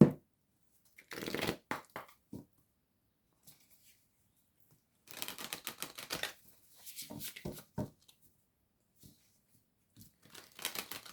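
An oracle card deck is handled and shuffled up close: bursts of crisp riffling and papery flicks separated by quiet gaps, with no talking.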